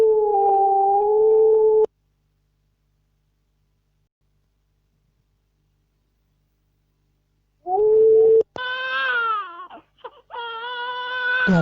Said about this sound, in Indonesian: suara bayi menangis.